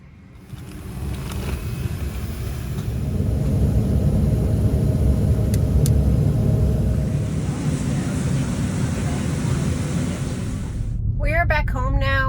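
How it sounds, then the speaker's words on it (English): A car drives along with a steady low road rumble and engine drone that swells after the first second and holds, and a brief voice is heard near the end. "Car."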